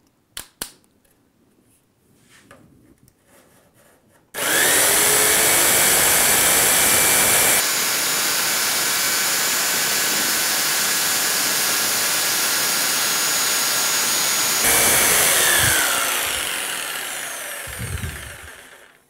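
Jigsaw cutting through wood with the pendulum action switched between a high and a zero setting, a loud, steady buzzing saw drone running for about fifteen seconds after a quiet start, with a slight change partway through and a fade at the end.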